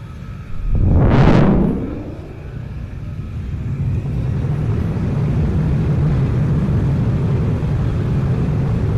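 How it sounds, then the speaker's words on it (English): Spacecraft taking off from a docking bay in a sci-fi setting: a loud rising roar sweeps up and away in the first seconds, then settles into a steady low engine rumble. "You begin the takeoff procedures. The Seraphim's docking bay opens"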